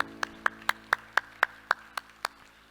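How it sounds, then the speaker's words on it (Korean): A church congregation claps in praise to God, about ten crisp, evenly spaced claps in unison at a brisk beat, moderately soft, then stopping. "우리 하나님께 영광의 박수합시다"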